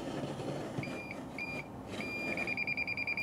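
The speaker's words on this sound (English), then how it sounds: "hopefully you can hear the tones change. It's now beeping." A Bosch GMS 120 wall detector sounding after finding a live wire: thin electronic tones, first a few short separate beeps, then a sustained tone breaking into rapid regular beeping, close and alone.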